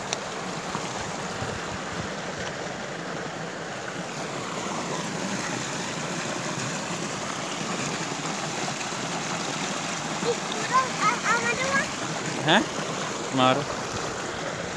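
Irrigation water flows steadily over a berseem fodder field on a farm, a continuous broad rushing wash with a few faint clicks and knocks toward the end and a brief voice.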